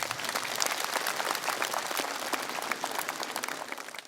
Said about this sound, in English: the ground was filled with applause of celebration